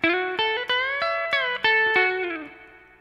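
An electric guitar plays a lick: a run of bright, sustained notes joined by slides, played clean and alone, with the last note ringing out and fading.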